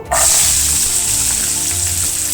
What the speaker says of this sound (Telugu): ముందుగా ఇందులో కొబ్బరి ముక్కలు వేసి ఫ్రై చేసుకుందాము.